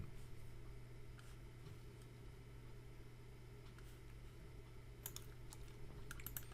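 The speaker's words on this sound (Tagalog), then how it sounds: "So i-type ko muna yung mga dapat kong gawin na variables bago ko explain." Faint typing on a computer keyboard while writing C++ code, soft keystrokes over a steady background hum, with a quick cluster of sharper key taps near the end.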